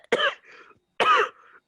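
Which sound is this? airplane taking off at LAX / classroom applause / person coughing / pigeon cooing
person coughing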